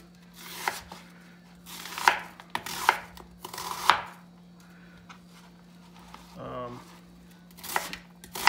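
A knife chops vegetables for sofrito on a cutting board in several irregular strokes, with a brief clatter near the end, close and moderately loud.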